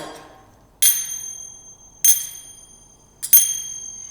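Zills, brass finger cymbals for Egyptian belly dancing, struck at the tips for a bell-like ring: three clear metallic strikes with sustained shimmering tones fading between hits, the last a quick double, close and without other sound.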